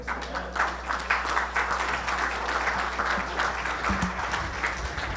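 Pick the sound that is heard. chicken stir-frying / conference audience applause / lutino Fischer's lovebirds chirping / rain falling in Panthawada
conference audience applause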